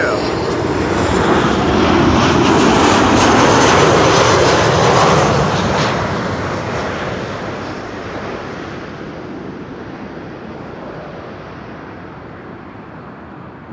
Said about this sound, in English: Another one A737-800.